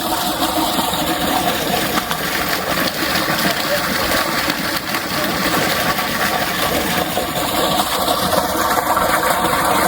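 Water gushing from a borewell pump in a rural setting, a constant rushing flow with pump noise underneath and voices talking over it.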